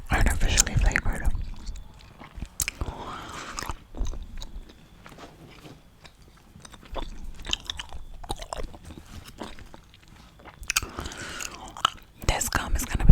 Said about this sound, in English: This gum is going to be a little hard not to chew obnoxiously